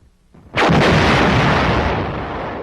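A loud artillery gun fires one close, heavy blast that holds a long, roaring boom and slowly fades into rumbling echo.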